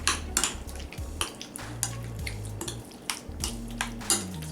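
Potato salad being mixed with mayonnaise, yogurt and black pepper in a bowl, the utensil giving repeated clinks and scrapes against the dish in an irregular rhythm, close and fairly quiet, with no talking.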